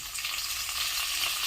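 Green chillies and fenugreek leaves frying in oil in a pan for Telangana-style fish curry, giving a steady, close, even sizzle with no talk over it.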